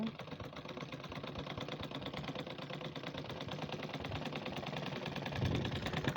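A sewing machine runs steadily while stitching the sleeves of a kameez, a dense continuous mechanical whir with fast needle chatter, close and unbroken throughout with no voices.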